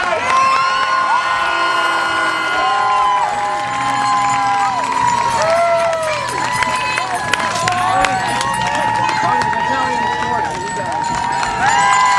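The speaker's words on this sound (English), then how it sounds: "A big round of applause for the Black Knight!" Crowd cheering and clapping for the Black Knight at a Celtic faire jousting championship. It is loud and continuous, with whoops and children shouting, and an announcer talks over the crowd.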